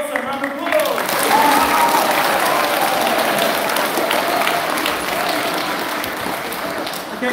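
An audience applauds after a senior speech competition finalist finishes, steady clapping filling the room for several seconds while a voice talks briefly over it near the start.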